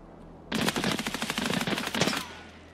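Automatic gunfire in the video game Escape from Tarkov, a rapid burst of closely spaced shots aimed into the floor, loud and sharp for about a second and a half before stopping abruptly, with no talk over it.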